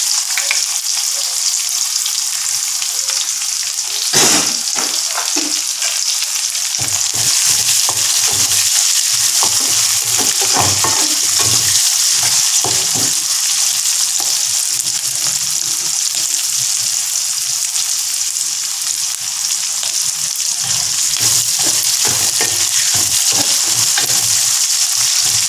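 Chillies and onions with salt sauté in a pan for a ridge gourd sothi, giving a loud, constant sizzle with scattered scraping stirs, and no voices.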